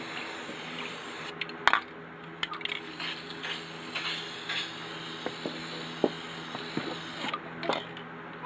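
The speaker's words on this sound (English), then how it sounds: "Alright, spray our red in the water here." Red spray paint hissing from an aerosol can onto the water in a bucket for hydro dipping: short, close bursts of spray with small clicks and splashy textures in between, and no talk.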